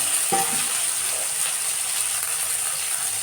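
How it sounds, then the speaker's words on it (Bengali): Eggplant slices frying in a small amount of oil in a pan, giving a steady broadband sizzle with a brief clatter near the start, no voices. "এই তেলে আজকে বেগুন ভেজে নেব"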